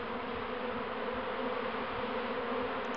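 Honeybee swarm clustered on a lattice, a dense, continuous buzzing hum heard close and steady throughout.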